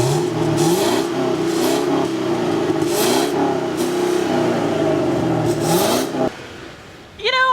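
A 6.2-liter V8 car engine revs repeatedly nearby, pitch rising and falling in several rising pulls, then cuts off abruptly near the end.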